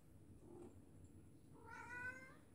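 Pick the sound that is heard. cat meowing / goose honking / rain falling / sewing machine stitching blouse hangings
cat meowing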